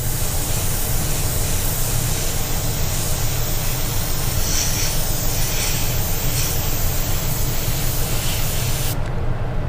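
A spray gun hisses steadily and loudly without a break as paint is sprayed through a stencil onto a panel to lay down a fish scale pattern.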